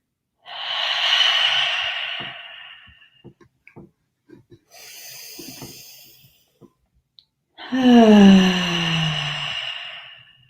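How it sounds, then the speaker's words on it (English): Slow, deep breaths during a mindfulness exercise: a long audible inhale, a softer breath after a pause, then a loud sighing exhale, close to the microphone with quiet gaps between. "The breath helps keep it nice and slow. So breathing."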